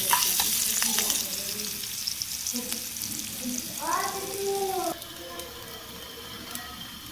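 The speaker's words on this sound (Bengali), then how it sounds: "গাইস, আমার শাক ভাজিটা বসিয়ে দিয়েছি। লাল শাক ভাজি" Red amaranth greens stir-fried in a pan with onion and dried chili give a steady broadband sizzle with scraping stirs; a brief voice-like tonal sweep rises midway, and the frying continues slightly quieter afterward.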